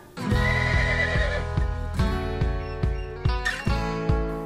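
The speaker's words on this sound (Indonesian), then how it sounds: "kalau yang itu kuda lokal yang biasa kita lihat" A local horse gives a loud, close whinny that rises and wavers, then breaks into repeated shorter neighs and snorts over several seconds.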